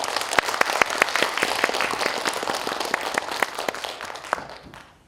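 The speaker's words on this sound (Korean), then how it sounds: "다시 한번 박수 부탁드리겠습니다" An audience at the 2021 Nam Gu-man literary festival in Yongin applauds steadily for several seconds, a dense patter of clapping across the hall that fades out at the end.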